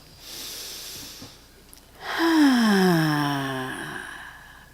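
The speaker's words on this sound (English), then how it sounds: "Take a deep breath with me" A slow, deep breath is drawn in and then let out with a long, voiced sighing exhale that falls in pitch, close and fairly loud, in a quiet room.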